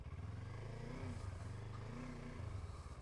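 An adventure motorcycle engine runs with the throttle held open, a low pulsing drone that swells and dips in pitch twice as the revs rise and fall, steady and fairly close.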